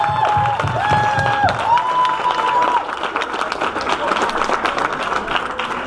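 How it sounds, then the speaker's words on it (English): Large conference audience applauding and cheering, dense broadband clapping with raised voices throughout, loud and close, with a sustained tonal sound over the first few seconds. "Stand up, applaud, scream, give them loads of love and energy."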